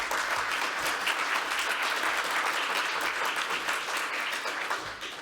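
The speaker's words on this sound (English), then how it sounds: "give him a warm applause," A conference audience applauds a speaker taking the stage, dense close clapping that holds steady and then thins out toward the end.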